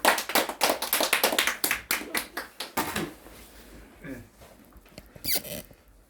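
Audience applause at a forum, welcoming a speaker to the front: sparse, sharp individual claps that build briefly and then thin out into a few scattered taps, with faint voices near the end.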